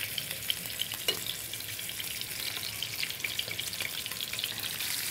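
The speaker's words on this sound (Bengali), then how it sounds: "এই যে আমি এক এক করে মাটনগুলো দিয়ে দিব। এটা একটু ব্রাউন কালার করে ভেজে নিব" Mutton pieces frying in Pushti soybean oil, a steady dense sizzle with crackling pops across the whole stretch, close and even in loudness, with no talking.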